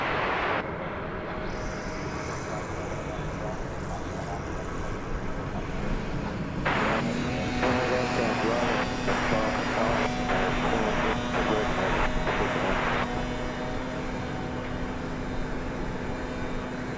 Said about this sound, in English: As you can see, it's an Airbus A319.